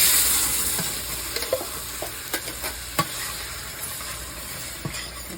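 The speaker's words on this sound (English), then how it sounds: "Add a can of crushed tomatoes." Crushed tomatoes hitting a hot pan and being stirred: a bright steady sizzle that eases slightly over time, dotted with several small clicks and scrapes of a spoon, close up.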